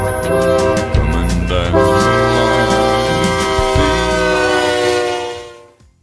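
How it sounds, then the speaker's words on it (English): A long train passing close by in Prosper, Texas, its horn blaring loudly and continuously with a rumbling rail roll beneath, the sound sustained throughout before fading out at the end. "loud train horn woke me up. There's a long black train coming"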